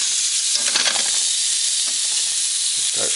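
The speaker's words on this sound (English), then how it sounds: "listen to this chicken sizzle when we put it in" Steady bright sizzle of chicken frying in a hot pan, continuous crackling hiss with a few soft clinks and scrapes, close and fairly loud.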